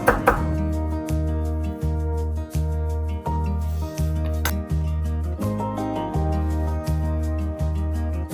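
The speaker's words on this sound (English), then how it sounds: "So chopping up some parsley and garlic." A knife chops parsley and garlic on a cutting board in steady, evenly spaced strokes that continue throughout, close and crisp, over a low constant hum.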